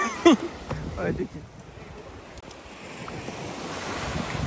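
Sea waves roll onto the shore at Koh Phangan under strong wind buffeting the microphone, a continuous washing surf with someone talking over it.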